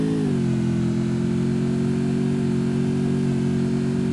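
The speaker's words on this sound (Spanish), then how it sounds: "Me pillo la moto mejor." Motorcycle engine in the Free Fire MAX video game, a steady mid-pitched drone that rises slightly as the bike gets going and then holds a constant high hum throughout, with no talking.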